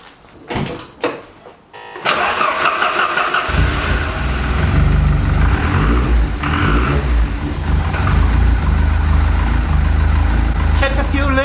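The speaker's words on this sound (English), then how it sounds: "We'll start the car up, we'll make sure there's no fuel leaks." A Ford Sierra Cosworth engine cranks over, catches and settles into a loud, steady run close by, with a few revs rising over the idle for the rest of the clip.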